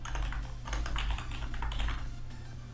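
Rapid clicks on a computer keyboard while coding in ROBLOX Studio, a short run of close key taps over a steady low background hum.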